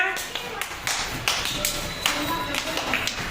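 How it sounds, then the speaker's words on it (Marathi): First-grade children clap in a steady, fairly quick rhythm during a book-balancing game, sharp claps repeating close by, with a voice calling out over them. "चला छान छान टाळ्या चालूच ठेवा"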